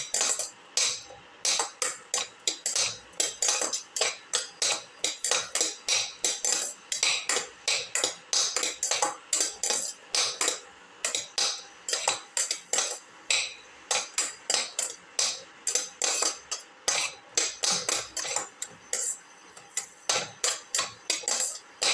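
Shallots and garlic are sautéed in a pan with a utensil scraping and knocking against the metal in rapid, regular strokes, a dense clattering rhythm that continues steadily and loudly throughout with no talk.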